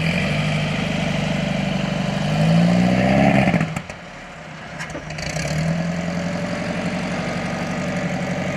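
A 1968 Volkswagen Beetle engine running after sitting four years, a loud steady idle that rises in revs, drops away briefly, then settles back into a rough, even running note.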